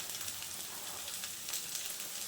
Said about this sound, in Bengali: দিয়ে আমি একটু নাড়াচাড়া করে পেঁয়াজটা নরম করে ভেজে নেব